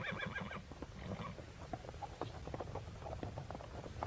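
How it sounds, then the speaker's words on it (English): Four small horses running abreast pull a coach, with steady hoof patter and a whinny rising over a continuous rumble of wheels, close and fairly loud with no talk. "cracked his big whip over his 4 small horses, which ran abreast, and we set off on our journey."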